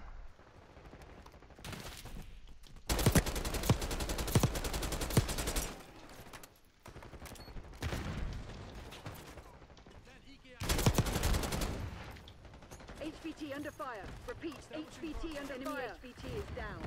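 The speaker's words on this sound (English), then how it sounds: "someone's still sniping" Gunfire in the video game Black Ops 6, with sniper shots during a match: two long, loud bursts of rapid shots stand out, alongside scattered single shots and game noise, while a player talks over much of it.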